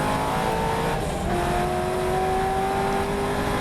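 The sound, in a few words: TVR race car lapping Spa circuit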